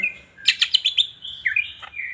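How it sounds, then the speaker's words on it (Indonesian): A green leafbird sings alone in a sequence of bright, rapid chirps and warbling whistled notes, with a short pause midway before the phrases resume, close and clear. "kita perhatikan cucak hijau kita, teman-teman"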